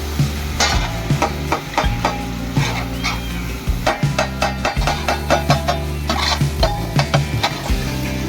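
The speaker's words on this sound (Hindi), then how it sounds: "कीमा हमारा भुन चुका है।" Minced chicken keema frying on a tawa while a utensil stirs and scrapes it, with a busy sizzle and rapid rhythmic clatter, loud and close throughout.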